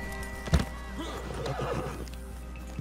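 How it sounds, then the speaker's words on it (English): A horse in Red Dead Redemption 2 Online gives a sharp whinny after being called in, followed by soft clip-clop hoofbeats on the ground, with faint game ambience behind. "Now you're going to call in your horse."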